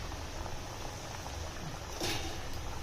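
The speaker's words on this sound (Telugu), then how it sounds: "ఇగోండి మనం కచోడీ ప్యాక్ చేసి ఇగోండి నూనెలో ఇలా వేగింటున్నామండి" Kachori made with wheat flour sizzling in hot oil, a soft continuous hiss and crackle, faint and even, with a brief brighter burst partway through and no talk.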